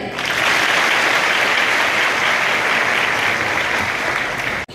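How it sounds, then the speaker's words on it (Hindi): Audience applauding to welcome a guest lecturer at a lecture event, a loud, dense, sustained round of clapping close to the recorder that cuts off abruptly at the end. "आइए हम सभी जोरदार तालियों के साथ उनका स्वागत करें।"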